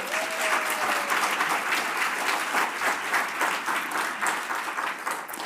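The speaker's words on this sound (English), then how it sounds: "Can we give these people a round of applause?" Steady, dense applause from an audience at a research overview event, sustained evenly at moderate loudness with no voices over it.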